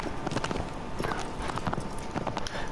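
Loud hoofbeats of a galloping horse in the video game Shadow of the Colossus drum in a fast, uneven rhythm. The hooves stay close and continuous throughout.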